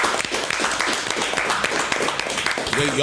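Podcast studio crowd or hosts give a round of applause, dense continuous clapping throughout with voices mixed in near the end.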